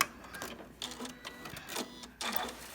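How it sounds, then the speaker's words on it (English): A sewing machine stitches a quarter-inch seam on a machine mat, running in short mechanical bursts with brief pauses, fairly close and moderately loud with no talking. "we're going to put this in the machine and just sew this a 1/4 inch right here"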